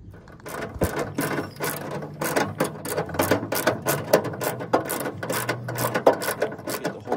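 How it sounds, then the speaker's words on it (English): Bolts come out of the tailgate latch on a 2001 Toyota Tundra with a ratchet, giving rapid, close clicking in quick irregular bursts that stop and start. No one speaks over it. "But to put the new one on, we're going to want to take both these bolts out."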